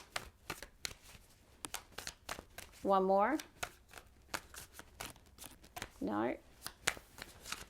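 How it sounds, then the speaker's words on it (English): Tarot cards being shuffled, a run of crisp rapid riffles and flicks that comes in bursts, with a person speaking briefly twice in between. "I'm going to shuffle and pull the first 3 cards."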